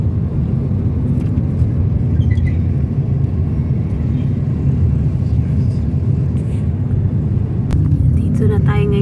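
Toyota Vios car driving in traffic near the Batasan tunnel, with a loud, steady low rumble of engine and road noise throughout and a brief lighter sound near the end.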